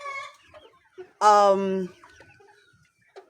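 Chickens recently debeaked let out one loud, close squawk among faint scattered clucks, with a voice speaking briefly beneath.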